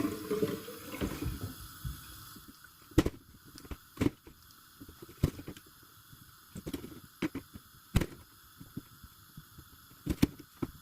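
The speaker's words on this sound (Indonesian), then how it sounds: "Kita cuci terus potong-potong aja." Tomatoes being washed under a running kitchen tap, a steady low water hiss with occasional sharp clunks and knocks of handling in a sink, no speech.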